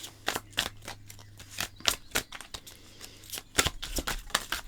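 Tarot cards being shuffled by hand, a series of quick, close crisp riffles and slaps in irregular bursts.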